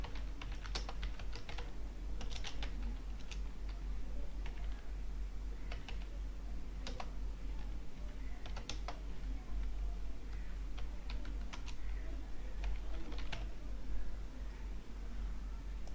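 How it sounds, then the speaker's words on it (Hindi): Continuous typing on a computer keyboard while a text box is filled in during a Microsoft Word lesson, steady clustered key clicks over a constant low hum, with no speech. "हमने यहाँ पे टाइप करते हैं"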